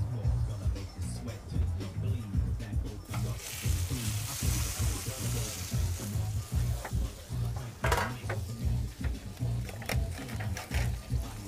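Salmon sizzles on a wood-fired grill, a dense, continuous crackle and hiss with rhythmic pops and spatters, close and steady throughout, with no one speaking.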